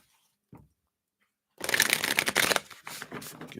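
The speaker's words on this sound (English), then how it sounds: "Give these a good shuffle here." A deck of cards is shuffled close by after near silence and a faint brief bump, giving a dense burst of crisp riffling and slapping that trails off in softer flutters.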